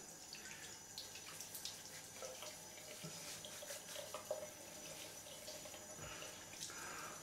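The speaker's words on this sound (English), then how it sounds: "So let's just wet the face." Tap water runs steadily into a sink for wetting the face before a straight razor shave, a continuous hissing splash at close range with no talking.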